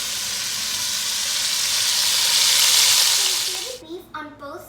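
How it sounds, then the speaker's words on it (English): A chuck roast searing in hot pork-flavored oil gives a loud, close, steady sizzling hiss that swells and then fades, before a voice briefly talks at the end. "we're going to sear our chuck roast. Be very careful, the oil and sear it down on both sides until it's golden brown"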